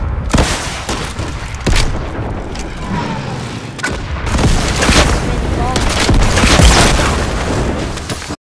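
Quad launcher rockets explode in a Fortnite match as a series of loud, close booms and blasts over several seconds, with a player speaking briefly between them.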